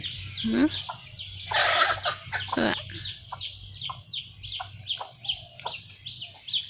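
Chickens being fed in a rural yard cluck close by in a steady run of short, repeated calls, with a brief human voice cutting in early on.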